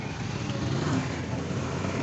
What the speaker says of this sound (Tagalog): May motor po sa likod.